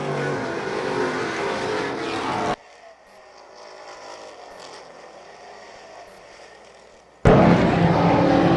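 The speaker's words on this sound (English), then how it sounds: "St. Clair will put Brandon Sprague a lap down as they get through 1 and 2" Super Streets race cars lapping Wiscasset Speedway during a 40-lap feature, engines roaring loud at first, dropping to a distant drone for several seconds, then surging back loud as the pack passes close.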